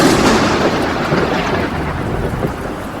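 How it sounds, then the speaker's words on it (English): A thunderstorm rumbles loud and continuous, with deep rolling thunder under a dense hiss of heavy rain. Nothing else is heard. "the thunderstorm"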